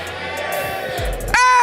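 A crowd at the MLBB M6 World Championship esports knockout stage cheers for team SRG. A dense roar of voices swells and ends in a sudden loud shouted burst, while an announcer talks over it.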